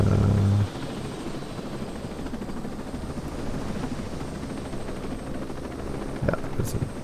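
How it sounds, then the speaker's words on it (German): A helicopter in the video game Ghost Recon Breakpoint, heard as a steady close rotor and engine drone that runs throughout, opening with a louder low rumble and ending in a brief clatter. "dann werden wir mal uns in den Helikopter bewegen"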